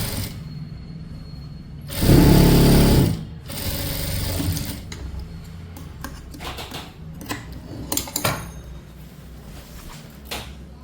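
Sewing machine stitching a churidar pant: a loud, close burst of fast mechanical whirring stitching for about a second, followed by softer handling clatter and a few brief mechanical clicks, with no talk.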